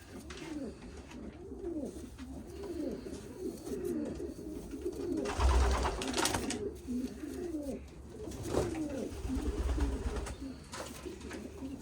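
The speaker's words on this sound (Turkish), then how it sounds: "Arkadaşlar elde orta boy bir kuş." A medium-sized pigeon, held in the hand, coos in repeated soft, throaty phrases, with a few brief rustles and thumps between the calls.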